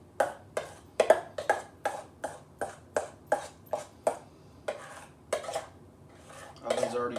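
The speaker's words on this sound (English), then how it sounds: "Spread this in the pan." Brownie batter is spread in a baking pan with a utensil, giving a steady series of about a dozen close, crisp scraping taps against the pan at a regular pace, with no talking.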